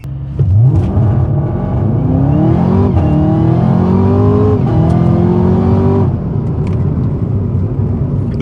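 A Camaro ZL1 1LE's supercharged V8 revs hard on a dyno, climbing in pitch through the gears for about six seconds before settling to a loud idle rumble, close and steady with no talking.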